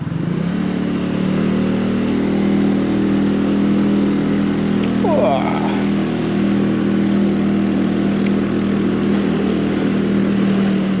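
A Lambretta V200 scooter fitted with an aftermarket exhaust rides along, its engine droning loud and steady with a deep, beefy exhaust note throughout and a brief shift in pitch midway.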